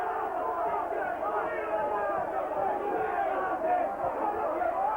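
A partisan Hull crowd at a Hull versus St Helens rugby league match rumbles in a steady, dense murmur of reaction heard from a distance, with the noise holding level throughout.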